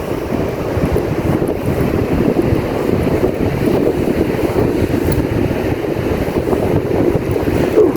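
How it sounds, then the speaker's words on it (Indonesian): Strong wind buffets the microphone outdoors, a loud, continuous low roar with gusty rumbling throughout and no speech. "Anginnya di sini cukup kencang baraya ya."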